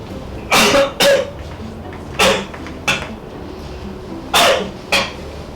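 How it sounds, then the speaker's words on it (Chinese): A man fakes a cough at home, sending out six sharp, close coughs in uneven single bursts and pairs over a quiet room. "等一下呢越咳越严重"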